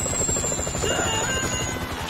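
A helicopter in Grand Theft Auto V, a steady loud rotor drone with rhythmic chopping pulses that holds throughout, with no talk over it.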